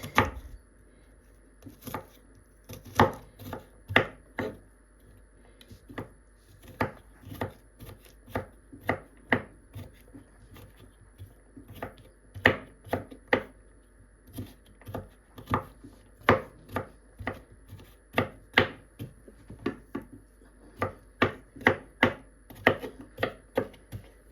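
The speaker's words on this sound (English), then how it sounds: "then you can always chop your garlic like this" A knife chops garlic on a cutting board in a home kitchen, a long run of crisp, evenly paced taps that come in quick bursts with short pauses between them, close and distinct, with no talking.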